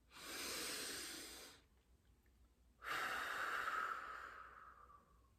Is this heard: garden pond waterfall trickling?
no